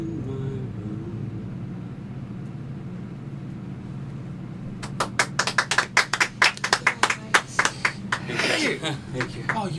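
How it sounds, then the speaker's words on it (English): Roughly a dozen sharp hand claps in a quick, uneven burst, close by and loud, following several seconds of quiet room hum. "Oh, you even clapped?"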